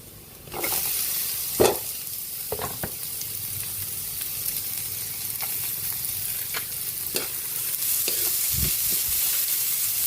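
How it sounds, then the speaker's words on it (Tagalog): Garlic and onion sautéing in a pan for lumpiang Shanghai, with a steady close sizzle that starts after a brief quiet moment and is broken by several sharp clacks of a utensil stirring against the pan. "Magigisa na po tayo para sa ating lumpiang Shanghai."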